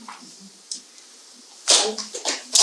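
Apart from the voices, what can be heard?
sneeze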